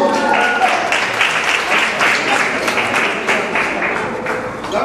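A crowd at a cockfighting arena in Tijuana claps steadily and fairly loudly for several seconds, with voices mixed into the applause.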